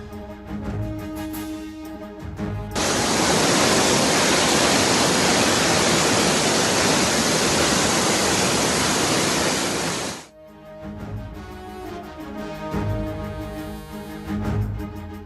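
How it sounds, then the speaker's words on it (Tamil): Heavy rain and water flooding roads during a hailstorm in Bengaluru make a dense, steady roar lasting about seven seconds, with music before and after it. "பெங்களூருவின் பல்வேறு இடங்களில் ஆலங்கட்டி மழை, கனமழையும் பெய்ததால் சாலைகளில் பெருக்கெடுத்த தண்ணீர்."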